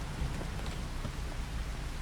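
Steady, even rain falls in the farming video game Farming Simulator 25, a constant wash of patter with no pauses and no voices over it.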